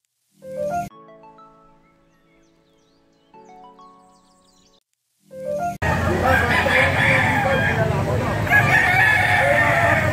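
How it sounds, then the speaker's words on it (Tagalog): Roosters crow at a crowded bird and poultry market in Bocaue, with harmonic calls in the first few seconds, then a dense, loud wash of market crowd noise and chatter for the rest. "Napakaraming manok mga kapatid at kukunti lang ang mga buyer yata mga kapatid"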